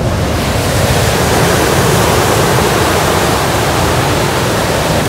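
Natural water flowing down from the hills near Varkala cliff in Kerala, a loud, dense, unbroken rushing roar, close to the microphone and steady for the whole stretch, with no voices.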